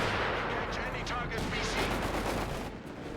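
Machine gun bursts and heavy tank cannon fire rattle through a Company of Heroes 3 battle, dense and continuous explosive crackle with no pauses across a few seconds.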